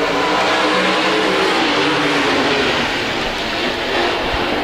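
Sprint cars roar off the start of a race at Park Jefferson Speedway, a loud, dense engine howl from the pack that holds steady with slight surges and no talk.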